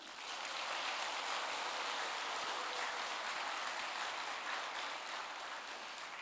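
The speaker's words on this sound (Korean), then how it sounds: "우리 장희규 목사님 나오실 때 우리 큰 박수로 환영하시겠습니다" Church seminar audience giving the visiting pastor a big welcoming round of applause, a dense, even wash of many hands clapping that runs unbroken throughout, heard from within the hall without speech.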